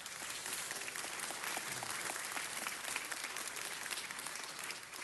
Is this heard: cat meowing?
no